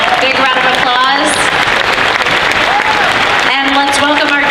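Applause from the audience at the Dragon Con Friday night costume contest 2017, sustained clapping filling the hall while voices and a talking host cut through the crowd noise.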